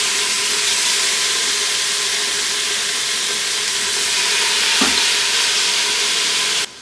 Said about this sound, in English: So I have my pot on saute more